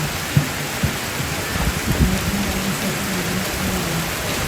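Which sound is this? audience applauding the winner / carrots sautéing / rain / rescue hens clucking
rain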